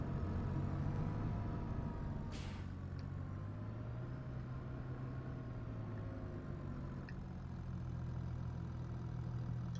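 A Kubota M8 tractor engine idles steadily in Farming Simulator 22, a low, even diesel rumble that holds constant throughout with no voices over it.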